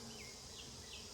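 Bees at a beehive during an inspection, a faint, dense buzzing hum with wavering pitches from several insects close by.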